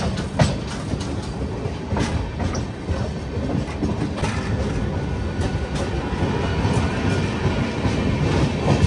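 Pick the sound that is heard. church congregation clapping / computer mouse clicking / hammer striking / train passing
train passing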